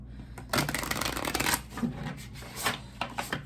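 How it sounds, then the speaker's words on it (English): A stiff, not-yet-broken-in tarot deck is shuffled by hand in a couple of bursts of papery riffling and slapping, close and fairly loud, with short pauses between bursts. "So ignore my bad shuffling."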